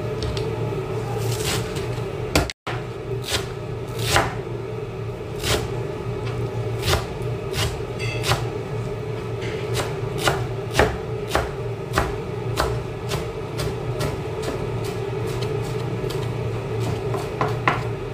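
Knife slicing water spinach (kangkong) on a cutting board in a home kitchen, a quick series of crisp taps and cuts over a steady background hum.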